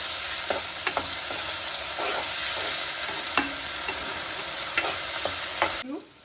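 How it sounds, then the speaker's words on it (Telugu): Ginger garlic paste fries after onions in a pan for a dried mackerel tomato curry, a steady close sizzle with occasional scrapes and taps of a stirring spoon against the pan. "1 టేబుల్ స్పూన్ అల్లం వెల్లుల్లి పేస్ట్, పచ్చివాసన పోయినంత వరకు వేయించుకోవాలండి"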